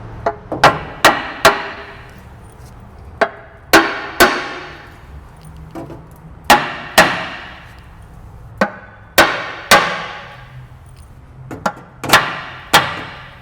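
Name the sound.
hammering a dowel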